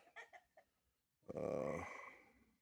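A few short clucks from a rooster, then a louder drawn-out rooster call that fades away, heard close with no talking.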